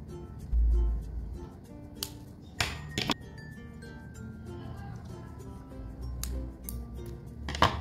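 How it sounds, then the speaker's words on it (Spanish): Scissors snip excess thread on a handmade knotted bracelet, giving a few brief, sharp metallic clicks spread out over a quiet background. "Al final cortamos excedente de hilo y quemamos."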